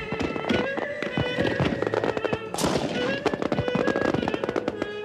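Fireworks explode in a dense, continuous barrage of loud cracks and booms at a display, with rapid overlapping bursts and crackling throughout.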